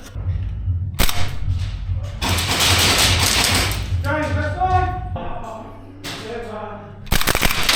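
Airsoft gunfire during a close-quarters indoor skirmish, with an HPA MDR-X and a Saiga Groza in play: sharp bursts of cracking shots over a steady mechanical hum, with players shouting and talking between volleys.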